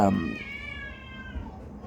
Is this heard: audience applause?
no